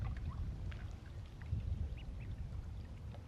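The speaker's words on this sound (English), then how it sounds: "water lapping the shore" Water laps gently and steadily against a lakeshore near a boathouse, a soft continuous wash with small splashes and faint bird calls, no talking.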